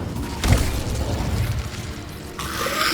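A fire spell cast in the Hogwarts Legacy game bursts out with a deep booming whoosh, followed by a steady rumbling roar and a brighter crackling hiss near the end.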